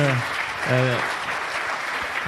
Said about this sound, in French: On peut les applaudir déjà pour cet échange